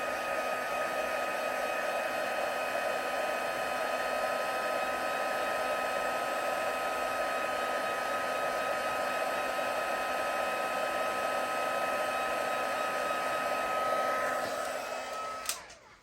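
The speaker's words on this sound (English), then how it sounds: "Then grab your heat tool and hit it with the heat." A heat tool blows over stamped embossing powder on a papercraft project, giving a loud, steady whirring hum that runs unbroken for about fifteen seconds before it clicks off.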